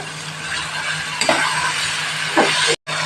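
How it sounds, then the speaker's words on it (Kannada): Tomatoes sizzle and fry in a pan for fried rice, a steady broadband hiss with occasional scraping stirs and a brief dropout near the end; no voices. "ನೋಡಿ ಫ್ರೆಂಡ್ಸ್, ಇವಾಗ ಇದನ್ನ ಸ್ವಲ್ಪ ಫ್ರೈ ಮಾಡ್ಕೊಳ್ಳಿ"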